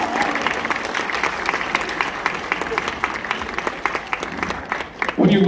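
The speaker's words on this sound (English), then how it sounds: "Big round of applause, ladies and gentlemen," A theater audience at a hypnotist and comedy show at Trine University claps in dense, sustained applause, with a voice talking over the crowd near the end.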